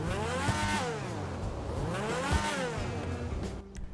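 The V12 engine of a Lampadati Tigon hypercar in GTA 5 Online revs hard, its pitch climbing and falling through several gear-like sweeps in a continuous loud, close howl.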